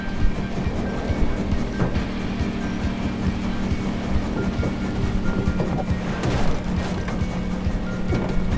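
A runaway train in the video game Sly 4: Thieves in Time, heard as a steady loud rumble with dense clatter and rushing noise that holds for the whole stretch, without a pause.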